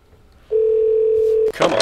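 A telephone dial tone in a basketball video game sounds as one steady, loud, pure tone for about a second, then cuts off into a burst of noisy sound.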